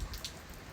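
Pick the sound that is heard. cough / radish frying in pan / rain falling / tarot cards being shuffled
rain falling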